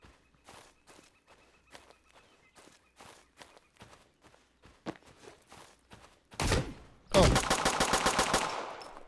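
Gunshots ring out in the video game Road to Vostok: a long series of sharp single cracks spaced irregularly, then a dense burst of rapid automatic fire near the end, loud and close.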